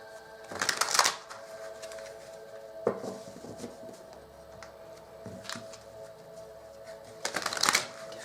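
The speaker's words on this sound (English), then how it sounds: "Give them a little bit of a shuffle." Tarot cards being shuffled by hand in bursts, a riffling flurry, then a soft tap, another brief flutter mid-way, and a final brisk shuffle, close and fairly quiet.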